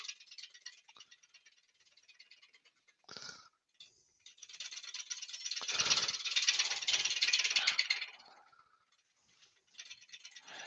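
A wood lathe spinning at about 520 RPM while the turner cleans out the piece gives a steady rattling, scraping chatter that swells in the middle and then eases back, fairly quiet and heard without speech.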